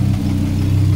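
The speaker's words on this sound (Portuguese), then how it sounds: "Esse é o ronco dos 5 cilindros." A Fiat Marea Turbo five-cylinder engine idles with a steady, deep, continuous rumble, close and loud, with no one talking.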